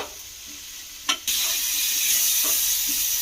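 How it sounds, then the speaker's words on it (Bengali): Tomatoes fry in a pan for chutney, a bright steady hiss of sizzling oil that jumps louder after a brief clatter and stays constant, with a couple of soft stirring scrapes. "দিয়ে এবারে এটাকে খুব ভালো করে একটু ভেজে ভেজে নেব"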